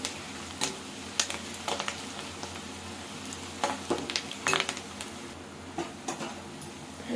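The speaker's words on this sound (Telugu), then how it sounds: "బాగా ఫ్రై అవుతున్నాయి కదండి" Onions, peanuts and seasoning frying in a pan for semiya and wheat rava upma, a steady soft sizzle with occasional scrapes and clinks of a stirring spoon, close and moderately quiet with no talking.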